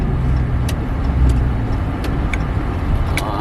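A Dodge Charger 392 with a mid muffler delete rumbles at low idle close by, a deep steady exhaust drone with a few faint pops over it.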